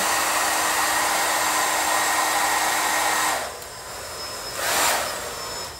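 A hair dryer blows steadily on artwork in a studio, a loud continuous whoosh that cuts off partway through, leaving quieter room tone and a brief second burst of air.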